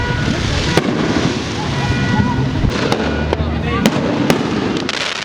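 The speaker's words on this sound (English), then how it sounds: "before the fireworks go off" Fourth of July fireworks burst outdoors in a repeated series of sharp cracks and pops over a dense crackling rumble, with crowd noise and voices running underneath throughout.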